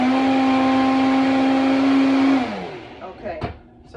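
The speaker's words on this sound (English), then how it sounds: "I'm going to blend the wet first. So hang on with me. This is a great blender." A blender whirs wet banana cake batter in a steady, loud, high motor whine for a couple of seconds, then winds down and stops, followed by a few light clatters.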